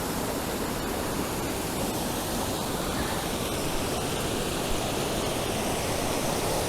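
A waterfall in Crimea sends water rushing down in a steady, dense roar of white noise that stays even throughout, with no voices.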